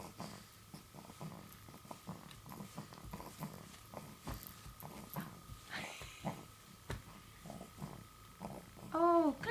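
A dog makes low, rumbling grumbles and throaty clearing noises up close, soft and irregular, with a brief human voice toward the end.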